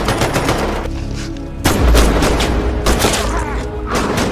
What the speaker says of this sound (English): Merriman shoots another officer and takes off running